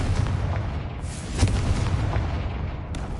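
Booming blast of a Confringo spell exploding in a wizarding video game, a loud rumbling burst with a sharp crack near the middle over a continuous low roar.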